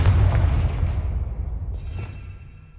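The Confringo fire spell in the video game Hogwarts Legacy goes off as a single heavy booming blast at the start, then rumbles and decays over a couple of seconds, with a faint crackle near the end.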